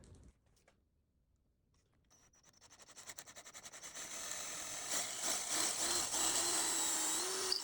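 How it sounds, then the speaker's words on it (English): A drill spins up and bites into a piece of oak clamped in a vise, a whine rising steadily from near silence into a loud sustained grinding drone up close. "We're gonna go ahead and drill the hole for that piece of iron"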